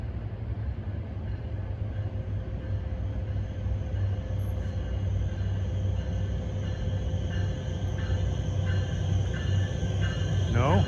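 An NJ Transit ALP-45DP locomotive on the NJT Mainline rumbles past with a low steady engine drone and faint rail noise, a horn-like rising tone near the end, with someone talking nearby.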